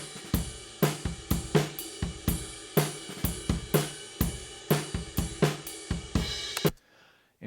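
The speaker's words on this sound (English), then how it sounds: "I'll just solo the drums." A drum kit picked up by a single microphone placed in front of it plays alone, with a steady pattern of sharp kick and snare hits under washing cymbals, then stops abruptly near the end.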